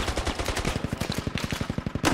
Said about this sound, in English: Oh, this grenade launcher, man.